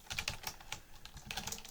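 Someone types quickly on a computer keyboard while entering network configuration commands, with close, soft key clicks arriving in uneven bursts.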